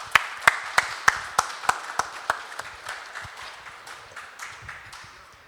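Sparse, spaced claps from an audience at a literature festival, about a dozen sharp hand strikes in a slow rhythm that fade and thin out toward the end.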